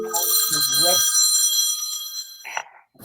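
A telephone rings during a committee meeting, a bright repeated electronic ring running through most of the moment, with people talking over it at the start and again near the end.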